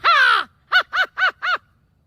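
A kid imitates an American crow with the voice, giving one long drawn-out caw followed by four short, evenly spaced caws, loud and close with no other sound.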